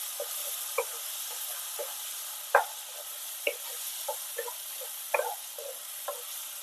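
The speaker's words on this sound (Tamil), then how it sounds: "சேர்த்து இந்த பச்சை வாசனை போற வரைக்கும் நல்லா இந்த எண்ணெயில வதக்கி விட்டுக்கலாம்." Ground green paste sautéing in hot oil for Andhra-style spinach thokku, a steady close sizzle broken by scattered stirring scrapes and clicks, with no talking.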